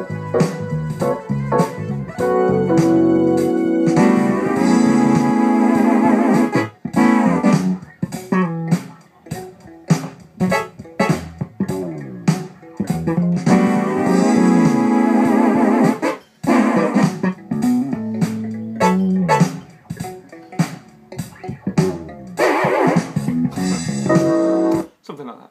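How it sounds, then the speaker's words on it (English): Amiga toy brass sample plays a short tune, bright reedy notes in a bouncy melodic line with frequent short breaks, fairly loud and alone. "it's called toy brass"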